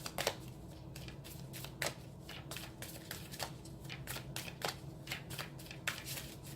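Tarot cards being shuffled close up, a continuous soft riffling with rapid papery flicks and snaps in an uneven rhythm, fairly quiet and without talk.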